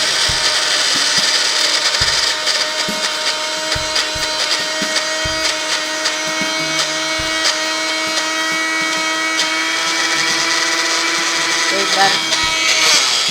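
A mixer grinder whirs loudly and steadily as it grinds ingredients for a fasting recipe, a constant high motor drone with brief knocks. Someone speaks briefly over it.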